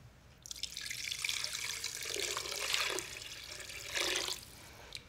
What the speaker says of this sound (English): And now it's time for some water and a braise.